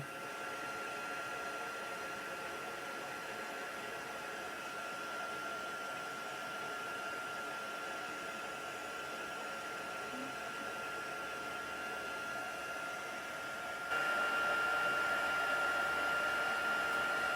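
Steady hot-air blast from a heat embossing tool on its heat setting, a continuous broadband whoosh with a faint whine that grows slightly louder and brighter near the end, running alone without talk.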